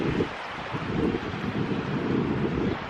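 Wind gusts buffeting the microphone outdoors on a cold, windy day on Cape Cod, Massachusetts, a steady low rumbling roar that swells and eases without pause, with no voices.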